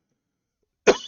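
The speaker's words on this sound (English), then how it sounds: "Excuse me for coughing" One sharp adult cough bursts out of near silence, close and fairly loud, with a short rough tail, and no other sound around it.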